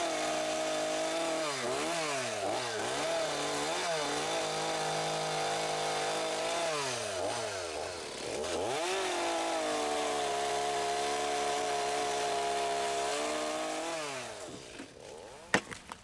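Chainsaw fitted with an old chain cutting knots off a log, the engine revving up and down repeatedly through a long continuous stretch, loud and close, with no talking.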